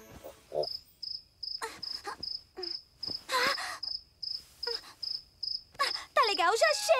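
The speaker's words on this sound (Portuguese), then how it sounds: "Eu vou achar o grilo, pegar o grilo e jogar o grilo pra fora de casa" A cricket chirps in regular short bursts, close and clear, while voices and other sounds come and go in the background.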